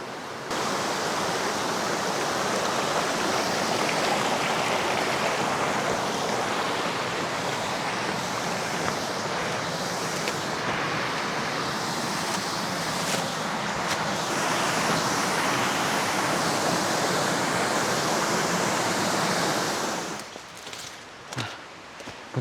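A mountain stream flows along a flood-washed old dirt road in high country, giving a steady, close, full rushing wash with no voices. It ends in a few scuffs and knocks of handling.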